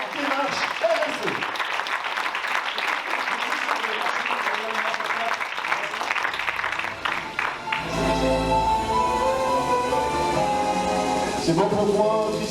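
Sustained applause fills a general assembly of the CAPEB 06 building trades federation, steady and dense at first, then continuing beneath music with sustained tones in the second half.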